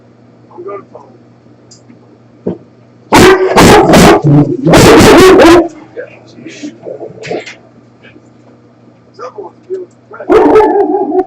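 A dog barks loudly nearby in several sharp bursts, with a few softer yips between, while people talk over it during play of Red Dead Redemption.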